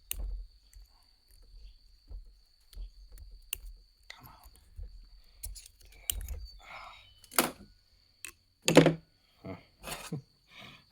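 Scraping and scratching as an O-ring pick digs a long-seated, hardened O-ring out of a hydraulic component, irregular close-up bursts with clicks and faint voices between them.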